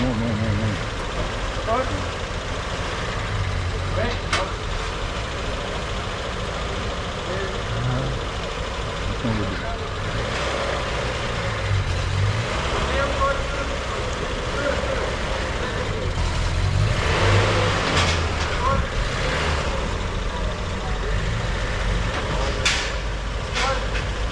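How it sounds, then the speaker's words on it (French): A truck arrives at a car auction to load a late-1960s or early-1970s car, its engine rumbling low and steady at moderate distance, with voices talking over it throughout. "Le camion qui arrive."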